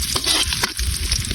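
Garlic sautéing in hot oil for veal adobo gives a dense, loud, close sizzle with a couple of quick stirring scrapes over the brief moment.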